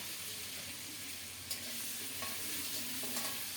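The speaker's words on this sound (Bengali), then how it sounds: "মাংসতে দেওয়ার জন্য আলুগুলো লবণ দিয়ে লাল লাল করে ভেজে নেব" Potatoes frying with salt in a pan, a steady close sizzle with occasional stirring scrapes and clinks, no talking.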